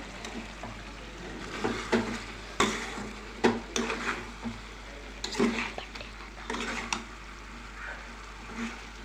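Ginger and turmeric are stirred into a Telangana-style chicken curry in a pan, with repeated scraping and clinking strokes over a light sizzle while a person talks.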